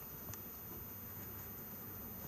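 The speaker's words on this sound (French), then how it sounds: "les abeilles rentrent" Honeybees buzz faintly around a hive as they crawl back inside, a soft continuous drone with a brief closer buzz near the start, over quiet outdoor background.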